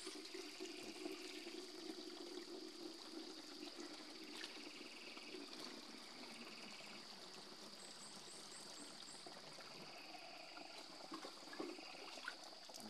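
Water poured into a container on a farm, a steady running flow that carries on through the whole stretch at moderate level, with faint background sounds and no talk over it.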